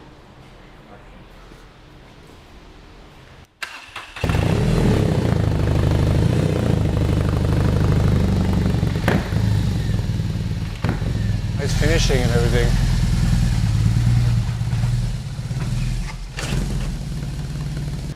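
A BMW R 18 boxer motorcycle engine with a prototype exhaust fires up after a few seconds of quiet and settles into a loud, steady, deep idle with occasional blips, while people talk over it.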